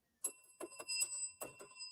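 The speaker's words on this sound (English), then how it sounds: "I think she here and ringing on the doorbell" Close and fairly quiet, a doorbell rings with a short series of bright electronic chime tones at an uneven rhythm, each note ringing briefly and overlapping the next, with no talking.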